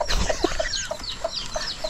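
Small chicks and grown chickens clucking and peeping close by, a busy stream of short chirps and clucks with no talking.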